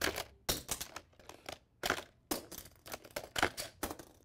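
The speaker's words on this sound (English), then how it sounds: "Gonna change my launch angle one more time, maximum power, and just let them rip." A Hot Wheels Ballistiks Catapult Assault toy launcher set to maximum power flings toy cars, making a series of sharp plastic clacks and snaps in uneven bursts, close and fairly quiet, with no talking.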